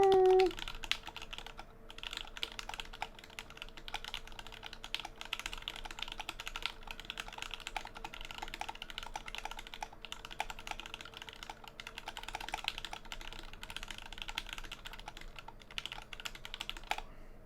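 Rapid, steady typing on an Input Club Whitefox mechanical keyboard fitted with SOHO switches, continuous quiet clacking of keys at a fast pace, heard alone.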